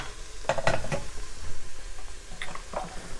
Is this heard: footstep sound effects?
no